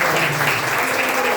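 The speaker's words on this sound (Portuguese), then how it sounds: "Palmas para Jesus." Church congregation clapping in praise, a dense continuous wash of applause with voices murmuring underneath.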